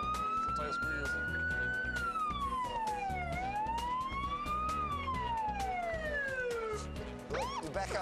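A police car siren wails loud and close, its pitch sliding up and down in slow sweeps over a low engine rumble, with faint voices beneath before it cuts off near the end.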